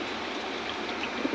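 Water poured into a poultry drinker, a brief steady trickling splash close by with no speech.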